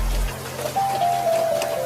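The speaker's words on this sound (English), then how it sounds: "What remains is the rain." Steady rain falls at a Victorian train station, a soft continuous hiss with a low rumble beneath and a faint thin tone drifting through the middle of the clip.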